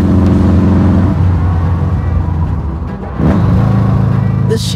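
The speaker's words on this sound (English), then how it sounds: "I know exactly when she's ready to go and catch her with a little rev of the engine" A modified 1958 Porsche 356 engine runs loud and close, a deep rumbling throb that eases briefly and then rises again with a rev.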